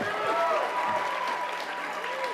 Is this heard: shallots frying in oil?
no